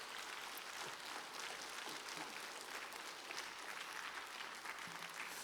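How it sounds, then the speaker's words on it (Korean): A church congregation at a Friday evening service applauds to welcome a visiting pastor forward. The clapping is faint, continuous and even, filling the room as a dense wash of many hands with no pauses. "앞으로 나오실 때 환영의 박수 부탁드립니다."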